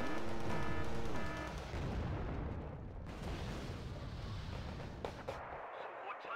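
Artillery barrages in the video game Wargame Red Dragon: a dense run of heavy booms and rumbling blasts at the start, then continuous distant shelling and sharp cracks of gunfire rolling on throughout.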